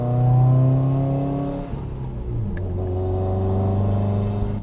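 The engine of a modified Subaru WRX rumbles deep and loud from close by, rising, dipping briefly after a shift, then droning on steadily.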